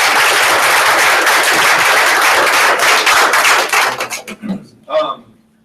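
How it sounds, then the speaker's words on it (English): Loud crowd applause at a sales meeting honoring a real estate team, dense clapping that thins out into a few scattered claps before a voice starts speaking. "Give them a big round of applause."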